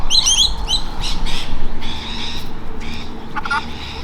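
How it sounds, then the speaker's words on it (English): A chicken at a campsite squawks and chirps loudly and close while being fed, in short bursts over a busy, noisy background. "Just fed a chicken."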